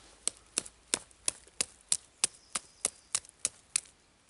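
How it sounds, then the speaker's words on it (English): Knife blade striking a half-rotten wooden stick in twelve sharp, evenly spaced chops, each a crisp woody crack, close and alone with no talk. "I have a horrible, half-rotten stick here, and I'm going to see if I can chop it"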